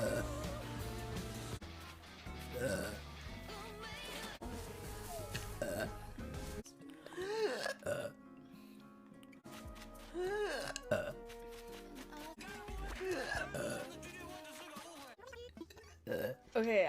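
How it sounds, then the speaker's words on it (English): A woman burps several times, short throaty croaks scattered among casual chatter and laughter from her and others nearby, at close range. "Can I burp on command?"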